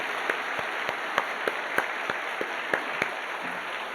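A church congregation claps for the choir at a Christmas Day service, a steady, evenly paced round of applause over a constant hiss that tapers off near the end.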